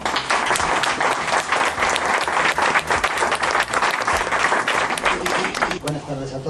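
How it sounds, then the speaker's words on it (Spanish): Loud, dense audience applause fills a presentation event in Valencia, Spain, steady throughout and tapering slightly at the very end. "Un fuerte aplauso para Eduardo."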